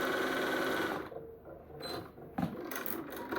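A sewing machine with a straight stitch plate stitching two fabric pieces together, whirring steadily at close range for about a second before stopping, followed by quieter rustling of the fabric.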